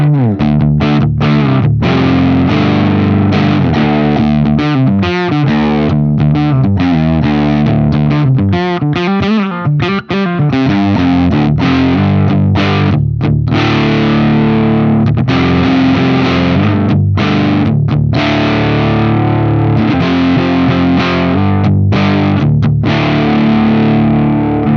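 A clean guitar runs through a Bardic Audio Devices HM Demon, an HM2-style distortion pedal with every knob maxed, giving a loud, saturated, buzzing wall of chords and riffs that plays steadily with only brief gaps.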